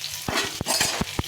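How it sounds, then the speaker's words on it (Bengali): Fish frying in hot oil for a fish-head curry gives a short sizzle broken by a few sharp stirring or utensil clinks, close and fairly quiet. "প্রথমে মাছটা ভেজে নেব।"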